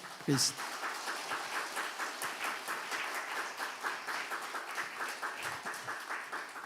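A church congregation at a Sunday morning service claps steadily for several seconds, a dense patter of applause with a brief voice near the start.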